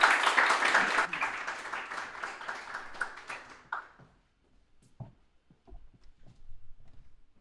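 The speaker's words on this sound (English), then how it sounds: "We are going to welcome and give a huge round of applause to our next speaker" An audience at a Sheffield content club meetup applauds to welcome the next speaker: a burst of clapping that fades out after about four seconds, followed by faint scattered taps and shuffling.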